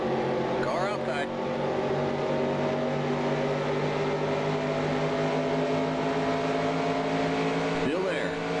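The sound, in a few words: race car engines in NASCAR Racing 2003 video game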